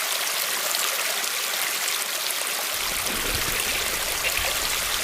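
River water flowing in an animated story, a steady, full rushing and trickling that carries on evenly throughout with no voices.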